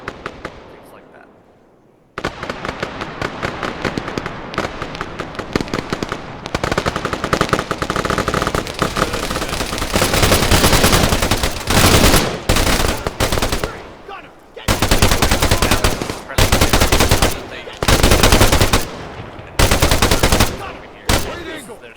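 An M2 heavy machine gun fires in a military video game in long, loud sustained bursts separated by short gaps, with a voice talking faintly underneath.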